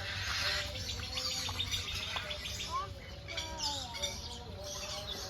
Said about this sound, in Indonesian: Burung merak kayaknya deh.